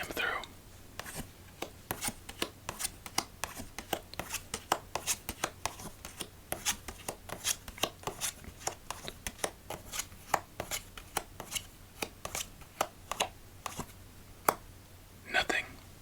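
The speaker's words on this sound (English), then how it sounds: "Alright, new strategy for shuffling. Cuts only." Silver Metalluxe Bee playing cards are cut and shuffled close up, giving a steady series of crisp snaps and riffles that repeat through the stretch, with soft murmured talk between them.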